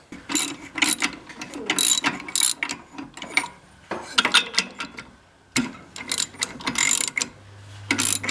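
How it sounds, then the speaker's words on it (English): Husky ratchet loosening a spark plug on a vintage John Deere Spitfire snowmobile, close, rapid bursts of clicking pawl strokes in uneven repeated runs with short pauses between. "Nothing ratchets like a Husky."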